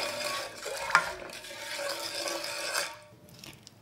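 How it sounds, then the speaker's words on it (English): Milk and sugar are stirred in a bowl, giving a continuous close swishing and scraping with a brief clink near the start, then fading toward the end. "And stir this."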